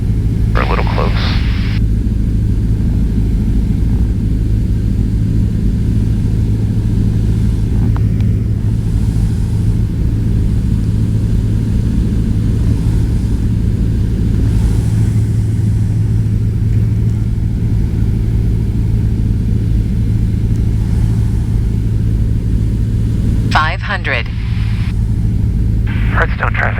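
Cessna Skyhawk light aircraft engine on landing approach, a loud, steady low droning rumble filling the cabin throughout, with radio voices and talk over it and brief crackling bursts near the start and end.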